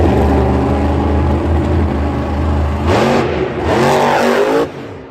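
The Kraken monster truck's engine roars loudly during a Monster Jam run at a Detroit stadium event in 2022, holding a heavy drone and then surging through two sharp revs before dropping off.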